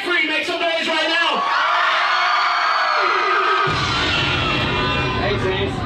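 Concert crowd at a hip-hop show in downtown Youngstown, Ohio, roaring with loud sustained cheers, whoops and yells, packed and close throughout.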